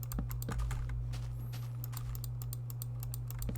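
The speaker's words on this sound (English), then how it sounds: "Hope this clicking isn't too loud" Rapid computer keyboard clicks and taps during a Minecraft-style game session, close and fairly loud, coming in irregular bursts over a steady low electrical hum.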